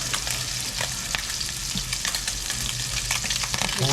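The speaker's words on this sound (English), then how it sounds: "So give that a stir." Mushroom risotto is stirred in a pan, giving a soft steady sizzle with repeated spoon scrapes and clicks close by, and no one speaks.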